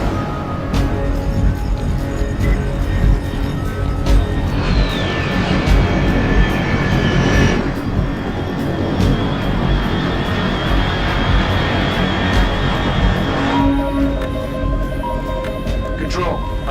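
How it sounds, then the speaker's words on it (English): Aircraft passing overhead in the Metal Gear Solid Delta: Snake Eater video game, a continuous engine roar with a whining tone that shifts in pitch, alongside game sound effects and voices talking. "Control, unidentified aircraft detected."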